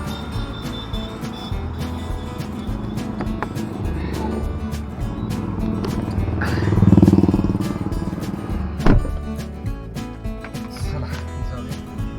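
A car rumbles along the road with a steady engine drone and tire noise. Another vehicle swells past around the middle and a sharp thump follows, with a little talk inside.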